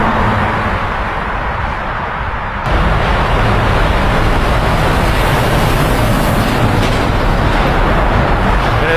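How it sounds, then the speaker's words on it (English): A car passes loudly through a road tunnel on a Xinjiang highway, a dense roaring rush of engine and tyre noise that swells sharply partway through and stays loud to the end. "it's just so loud whenever a car passes"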